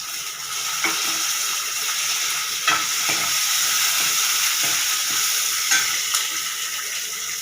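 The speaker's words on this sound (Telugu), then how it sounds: "ఎల్లుల్లిపాయలు వేసుకున్న తర్వాత మిర్చి వేసుకోవాలి." Garlic and green chillies fry in hot oil in a pan with a steady, loud sizzle and crackle, broken by a few clicks and scrapes of stirring.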